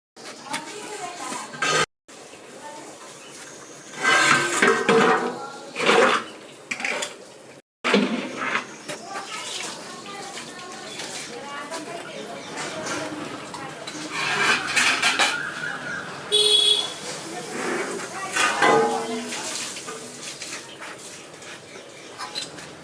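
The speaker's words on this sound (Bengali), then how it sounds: "আগে বেগুনগুলো ধুয়ে পরিষ্কার করে আগে কেটে নিই" Eggplants being washed and cut in a kitchen, with running water, clattering dishes and knife or utensil knocks in bursts, punctuated by brief pauses, and a person speaking intermittently throughout.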